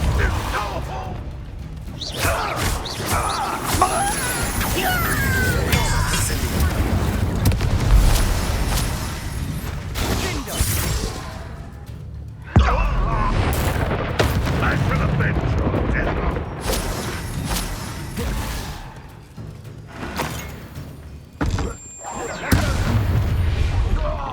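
Confringo fire spells blasting during Hogwarts Legacy combat, with repeated booms and bursts layered over game music and character voices talking.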